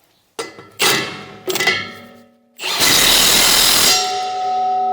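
A bigger impact wrench with a 1.5 inch socket tightens the impeller nut on a MUSKOX 26-84 snowblower, giving a few sharp metallic clanks and then a loud sustained hammering burst, with ringing metal afterward.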